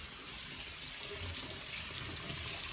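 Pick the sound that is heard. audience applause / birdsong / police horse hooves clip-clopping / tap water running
tap water running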